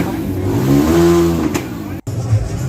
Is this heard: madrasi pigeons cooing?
no